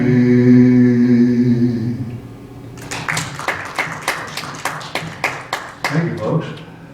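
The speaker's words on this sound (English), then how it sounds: "Thank you, folks, for the thunderous applause." An audience claps after a folk song at a small live performance. Scattered applause of several hands is heard in uneven bursts, with a sung note fading out before it.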